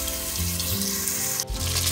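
Chicken breast pieces brown in a hot pan for a Puerto Rican chicken stew, a loud, dense sizzle that carries on continuously with a brief dip before resuming.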